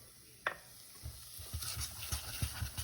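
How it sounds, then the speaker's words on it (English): Flour roux cooking in a pan for biscuits and gravy, with a soft continuous sizzle and repeated scraping stir strokes, fairly close and quiet, no talking. "And you really want to cook this roux out, just for a little bit to get that raw flour taste out of the way."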